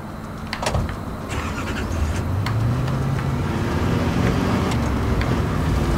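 Car driving in Just Cause 4, a steady engine and road rumble building and holding loud throughout, with scattered sharp clicks and game effects layered on top and no talking.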